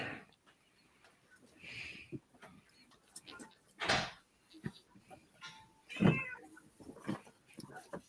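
A cat meows several times, the calls loud and drawn out at irregular intervals among quiet room noise, with some faint thumps and a voice in the background.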